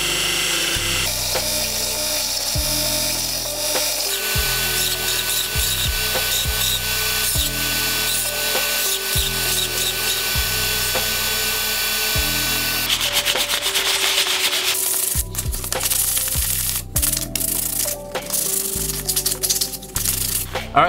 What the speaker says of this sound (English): Now I'm gonna go ahead and just hand sand it a little bit. This is just 100 grit.